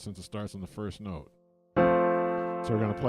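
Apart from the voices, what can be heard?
No everyday noises stand out.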